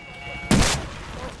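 A rocket launcher fires in Battlefield 4, heard as one sharp, loud blast that fades quickly over a quiet game background.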